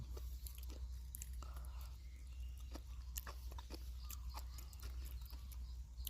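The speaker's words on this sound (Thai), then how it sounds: "อืมแมงกะพรุนอร่อยครับ กรอบ นุ่ม" Crunchy jellyfish dressed with sesame oil being chewed, soft repeated biting and crunching close to the mouth, quiet and steady over a low background hum, with no talking.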